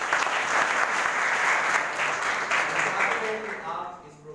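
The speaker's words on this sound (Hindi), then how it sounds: "जोरदार तालियों से स्वागत करें" A school audience applauding to welcome a guest counsellor at an event, a dense sustained clapping from many hands that fades out toward the end.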